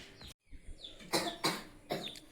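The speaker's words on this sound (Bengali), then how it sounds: "আমার কাশিটা বেড়ে গেল খুব" An adult coughs indoors at home, three harsh bursts in quick succession with no talking over them.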